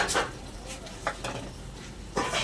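A spoon scrapes and stirs tomato and nuts frying in a pan for khichuri, with soft sizzling underneath and a few sharper scraping strokes against the metal.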